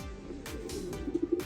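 Racing pigeons arriving home after a 460-kilometre race coo softly in a low, murmuring run, with a few louder rhythmic coos near the end over steady background noise.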